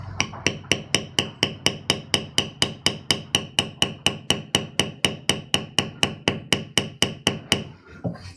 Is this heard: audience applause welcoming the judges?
no